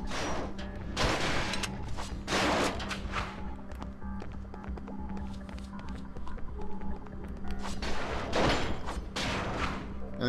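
Gunfire from the video game BloodRayne: repeated bursts of shots against a dense, noisy game soundscape with footsteps and impacts, loud and continuous throughout, with no clear pauses.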